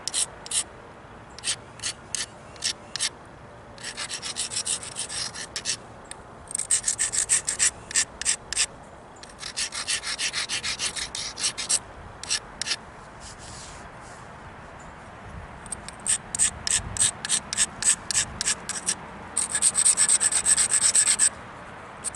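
Edge of a flint-knapped Mookaite stone point being ground with an abrasive, quick bursts of harsh scratchy rubbing strokes in irregular clusters separated by short pauses, close and crisp, no voices.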